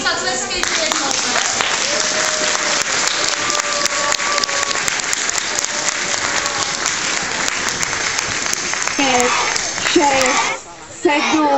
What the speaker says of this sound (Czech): ještě jim zatleskejte jednou